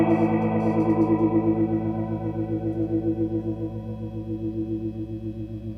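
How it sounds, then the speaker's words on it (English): Guitar through a Way Huge Penny Saver Royale pedal into a clean amp, sustained chords pulsing with a fast, Leslie-like rotary swirl, steady and alone. "It can certainly get into some almost Leslie-like sort of territory. Probably a little crazier than just a rotary speaker kind of thing"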